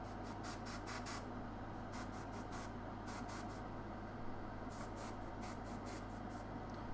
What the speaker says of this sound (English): So with black, I'm just going to spray this directly on top of these exhaust vents.